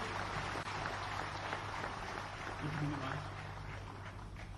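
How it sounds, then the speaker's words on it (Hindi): Ceremony audience at an Indian government event applauds in a steady, distant wash of clapping over a low hum from the hall's sound system. "आप सभी लोगों की तालियों के साथ हम अभिनंदन करना चाहेंगे।"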